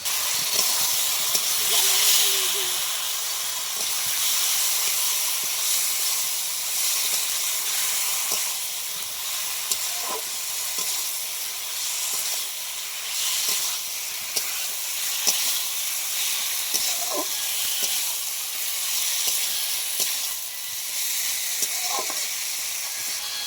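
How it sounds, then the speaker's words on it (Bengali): Potatoes and pointed gourd sizzling in hot oil in a pan, a steady loud hiss with occasional soft stirring clinks, no talking. "ভেজে রাখা আলু পটলগুলো দিয়ে দিব।"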